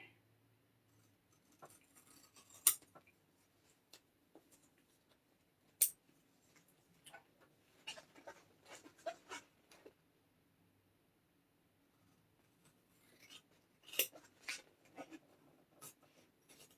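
Quiet, close scissor snips and paper rustles come in scattered bursts with pauses between them as a rucksack sewing pattern piece is cut out by hand.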